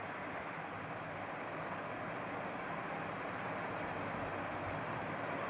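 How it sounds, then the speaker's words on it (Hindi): Continuous rain falls outdoors in a soft, even hiss that stays quiet and unchanging throughout, with no speech heard. "बारिश तो बंद नहीं होने वाली है"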